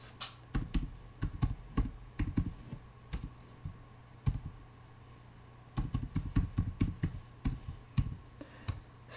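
Computer keyboard typing as a C++ program is written on Linux: close, clattering keystrokes in quick runs, with a brief pause before a final burst, and no talk.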